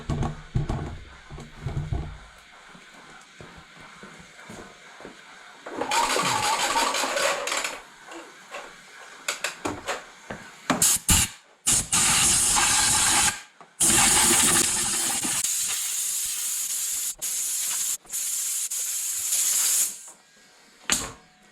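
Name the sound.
compressed air blowing out a car airbox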